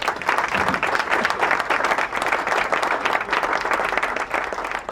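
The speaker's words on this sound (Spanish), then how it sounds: "A ver ese aplauso" A live audience at an education event bursts into dense, sustained applause, many hands clapping steadily and fairly loudly, with a faint murmur of crowd noise underneath.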